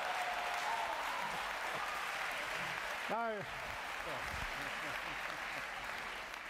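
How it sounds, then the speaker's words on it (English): Audience applause at a talk by a speaker on Stephen Hawking and atheism, a broad, steady wash of clapping throughout, with a brief voice cutting in midway. "it's very kind of you to clap"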